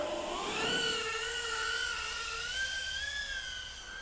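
A BetaFPV Pavo Pico 2S cinewhoop FPV drone flies with a steady high-pitched motor whine, its tones rising and sliding as the throttle shifts, heard alone and fairly close.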